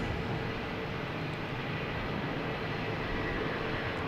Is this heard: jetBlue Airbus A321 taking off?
yes